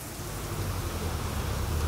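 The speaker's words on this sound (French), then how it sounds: "On avait trouvé de quoi se protéger de cette incroyable pluie modérée." Moderate rain falls steadily during a classic summer thunderstorm in Plainview, Texas, a dense even hiss of drops with low rumbling underneath, constant and close for the whole stretch.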